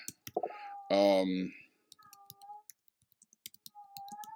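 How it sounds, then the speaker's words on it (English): A single loud cat meow rings out near the microphone, surrounded by quick keyboard clicks and a few whistling tones. "sorry about the cat in the background."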